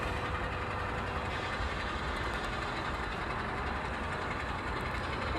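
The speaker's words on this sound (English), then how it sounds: "So we let the kids know that train's coming." A train rumbles steadily with a low, continuous engine drone and broadband noise, holding constant throughout rather than clearly growing louder.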